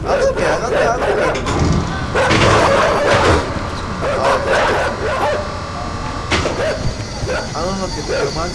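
Dogs bark and yip repeatedly throughout a dark platform game, the barking loud and busy over a dense game soundscape, with a player shouting over it.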